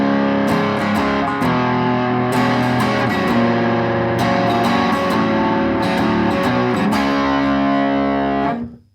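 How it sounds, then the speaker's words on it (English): A loud, distorted electric guitar plays chords and riffs through an amplifier with slight reverb from a Line 6 HX effects unit, picked up by a vocal microphone across a room, ringing out and fading at the end. "I will let you hear the guitar through the vocal microphone"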